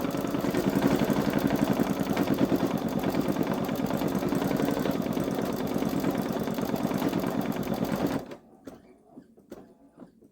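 A Baby Lock Solaris embroidery machine stitches out a design with a loud, rapid, steady mechanical chatter, then stops abruptly, leaving only faint quiet handling noises.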